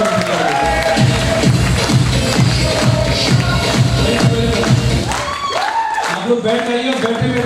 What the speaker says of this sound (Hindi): ऐसी महान कंपनी, ऐसी महान संस्था के लिए जोरदार तालियां होनी चाहिए।